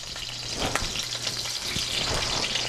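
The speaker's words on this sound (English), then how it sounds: "You hear that sizzle now?" Meatballs fry in a pan with a loud, close, continuous sizzle and crackle, some stirring noises mixed in, and no talking.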